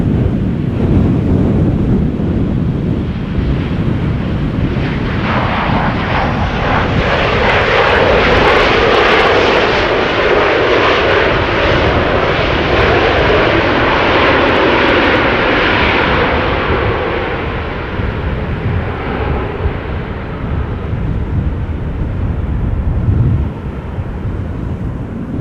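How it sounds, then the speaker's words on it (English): KLM Boeing 737-700 arriving at Amsterdam Schiphol after a storm, a loud, steady jet engine roar that swells as the plane passes, mixed with heavy gusting wind buffeting the microphone. "this is KLM flight 1826, Boeing 737-700 arriving from Berlin"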